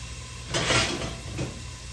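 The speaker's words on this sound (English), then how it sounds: "we're gonna stir this up" A spoon stirs pizza soup in a cooking pot with two scraping, swishing strokes, the first louder and longer, over a steady faint kitchen hiss.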